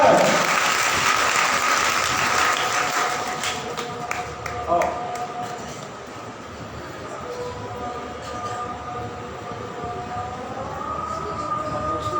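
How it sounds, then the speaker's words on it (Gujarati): Applause from a gathered audience welcoming a guest speaker at a devotional gathering, with a broad steady patter of clapping that continues for the whole stretch and eases slightly midway, mixed with crowd murmur and some talk. "આઈએ જોરદાર તાળીઓથી સ્વાગત કરીએ વલસાડથી પધારેલા પ્રતીક્ષાબેન મહેન્દ્રભાઈ કાપડિયા"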